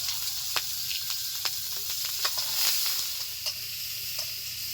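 Cumin, chopped onion and garlic sizzle in hot oil with dried red chilli, a steady hiss punctuated by sharp crackles and spatters, fairly quiet and close.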